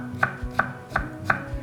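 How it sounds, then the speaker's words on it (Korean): Knife slicing through Korean pickled cucumber (oiji) on a cutting board, four crisp evenly spaced chops, close and clear with no talking. "오이지를 쓸 때는 요 끝에 꽃 붙어있던 부분 잘라내고 송송 썰어요"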